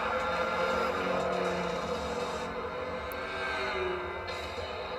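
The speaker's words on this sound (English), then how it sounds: "Here we go into the final lap with our leaders around turn 1 and turn 2." Race cars in Gran Turismo 6 at Midfield Raceway, including a Camaro and a BMW Z4, whining steadily as their engines hold high revs through the turns, with a continuous layered drone.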